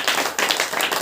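A church congregation clapping hands together during a Saturday prayer meeting, a dense, continuous burst of many hands lasting about a second with no voices over it.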